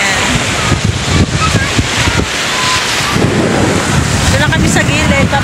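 Steady wind buffeting the microphone by the sea, with a broad rushing roar of surf underneath and faint voices now and then.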